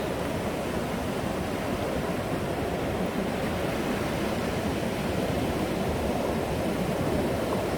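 Steady broadband wash of surf breaking along a beach on the Bolivar Peninsula, Texas, a continuous roar at close range with no talking over it.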